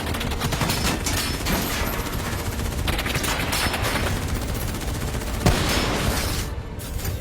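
Sustained gunfire from the video game Call of Duty Black Ops III during a battle cutscene, a dense rolling fusillade of rapid shots and bursts filling the whole stretch, with one sharper crack near the end.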